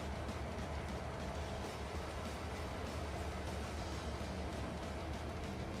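Train rolling along in Farming Simulator 22, an even low rumble with soft clickety-clack wheel rhythm, continuous and fairly quiet, heard alone without speech.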